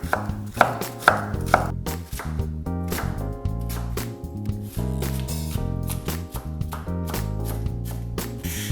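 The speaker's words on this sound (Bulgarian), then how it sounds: "Една от първите стъпки за приготвянето на тази рецепта е да нарежа лук, чесън и моркови на много ситни купчета." A knife chops onion on a cutting board, a rapid, steady run of close crisp strikes going on throughout with no talk, part of preparing onion, garlic and carrots for stuffed peppers with minced meat and rice.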